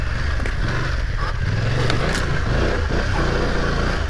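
A BMW F900 GS Enduro motorcycle labours along a rough off-road trail, its engine revving unevenly in close, loud bursts as the tire scrabbles for grip.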